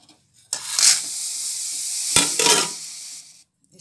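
Green chillies stir-roasted in a hot pan on a gas stove for a kudrum pickle, giving a steady close sizzle with scraping stirs from about half a second, then a brief pause and another stirring burst before it fades.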